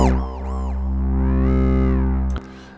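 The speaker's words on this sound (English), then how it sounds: "The distortion or filter saturation is built into the filter module" A Zebra software synth runs its filter saturation distortion, giving a loud, buzzy sustained tone whose harmonics sweep and warble before cutting off abruptly near the end.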